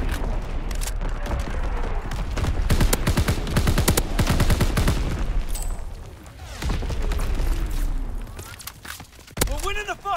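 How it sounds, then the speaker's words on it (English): Rapid video game gunfire hammers a target in bursts of sharp, loud shots, with booming impacts and scattered footsteps, broken by brief pauses; a voice speaks over part of the barrage. "Firing on target."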